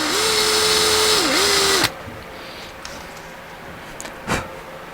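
A handheld power drill bores into a part, whining loudly and close for nearly two seconds with a brief dip in pitch before stopping, followed by quieter handling clicks and a short knock.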